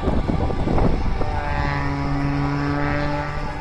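An aerobatic airplane at an air show in Tampa, Florida, roars close and loud, its engine pitch sliding and droning steadily through a maneuver with no talk.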